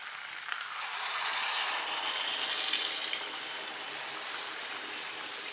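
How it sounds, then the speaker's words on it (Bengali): Water poured into a pan of chicken curry with an oily gravy gives a steady, fairly loud hissing rush that builds and holds for several seconds, with no voice over it. "জল দিয়ে দিব"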